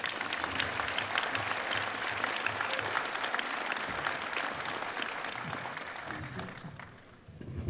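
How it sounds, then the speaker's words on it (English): Audience applause at an Agriculture Hall of Fame induction ceremony, sustained full-room clapping that holds steady for several seconds before tapering off near the end. "Let's give another round of applause to Mr."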